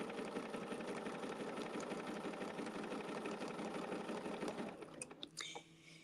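A sewing machine runs in one continuous stitching pass for several seconds, close and fairly quiet, then stops, with a few light clicks at the end.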